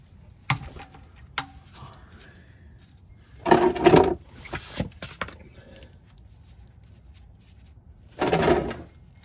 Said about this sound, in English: Make sure you set this to loosen, put the socket over, and then start pulling and cranking.